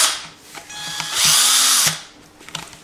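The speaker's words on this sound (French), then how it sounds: "il y a maintenant un trou grâce à la perceuse dans la bouteille" A power drill bores a hole through a plastic drink bottle in a kitchen food-hack setting. A loud, steady whine lasts under a second, with brief handling clicks before and after.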